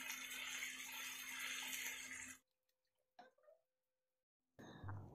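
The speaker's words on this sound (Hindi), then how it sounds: "थोड़ा सा पानी डाल देते हैं।" Water pours into a khaman dhokla batter in a home kitchen, a soft, splashy trickle for a couple of seconds before dropping away. A few faint clinks follow in near silence, then a quiet background returns.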